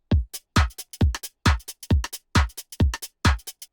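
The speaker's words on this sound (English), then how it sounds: "So it's a swingy 4 on the floor pattern, 134 BPM" Swingy four-on-the-floor drum pattern at 134 BPM, built in Ableton with stock instruments: a steady punchy kick on every beat with crisp, shuffled hats and percussion between, loud and dry with no voices.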